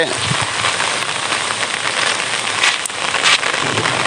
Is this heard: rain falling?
yes